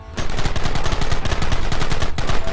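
Gunfire in the Western video game Red Dead Redemption as a fight breaks out: a loud, dense volley of overlapping shots, rapid and continuous, with no talk over it.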